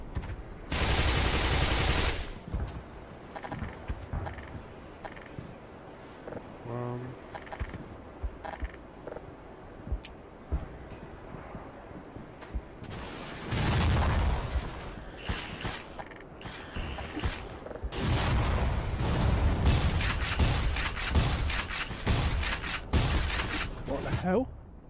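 Gunfire in the video game Black Mesa, bursts of rapid shots and loud blasts interspersed with mechanical clicks, with someone talking over the action.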